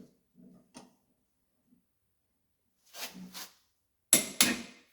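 A big hammer strikes a press-fit slug on a Makita 2030 planer during a drive roller refurbish, giving a few sharp metallic knocks that end in two loud close blows, with quieter taps and silence before them.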